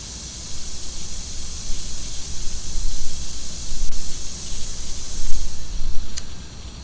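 Bettis G Series spring-return actuator on a fail-closed setup, opening as compressed air hisses steadily throughout, a broadband rushing that swells slightly toward the end.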